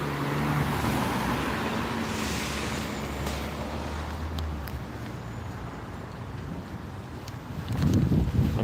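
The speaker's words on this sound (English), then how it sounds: "Look at this freaking yuppie driving his fancy Volvo." A Volvo car drives past on a Hollywood street, a steady broadband road and wind rush throughout with low engine hum, swelling louder near the end as it passes close.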